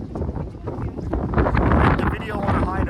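Strong gusting wind buffets the microphone at Europe's westernmost point, a loud, rumbling roar that rises and swells throughout with a low, churning texture.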